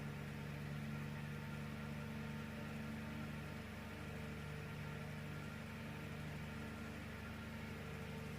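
A fan motor salvaged from a destroyed room heater runs at 130 volts, giving a faint, steady, even hum and whir that never changes.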